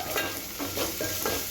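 Ginger garlic paste and turmeric frying in a pan, stirred in a few quick scraping strokes over a steady, close sizzle.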